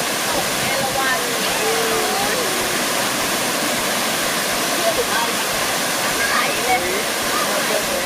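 Erawan waterfall in Kanchanaburi, Thailand, rushing in a steady, dense roar that fills the scene from start to finish, with faint murmurs of people in the background.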